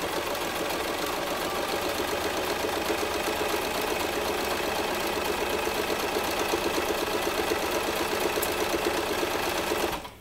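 A sewing machine stitches a gathered ruffle onto a fishtail skirt, giving a steady, fast, continuous mechanical whir close up that runs unbroken for about ten seconds before stopping abruptly.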